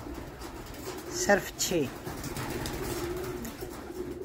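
Soft pigeon coos rise briefly under someone speaking, with steady background noise throughout.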